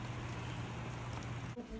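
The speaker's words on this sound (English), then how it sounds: "You can see the rain just going up the road." Rain running up a road on a hill, a continuous broad hiss and patter with a low steady hum beneath, briefly broken by a soft bump near the end.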